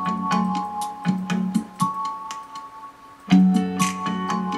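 Music plays through a small JBL GO Bluetooth speaker, with ticking percussion and sustained tones that sound thin and boxy at close range, followed by a louder phrase near the end.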